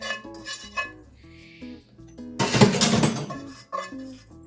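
Black beans for Haitian-style sos pwa noir tumble into a pot in a brief clattering rush of about a second, set among softer kitchen clinks of dishes and utensils.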